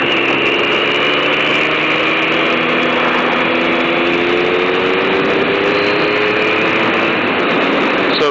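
A big red motorcycle engine drones steadily while riding, with a loud, continuous mid-pitched hum and slowly rising harmonics, close up with wind noise and no voices.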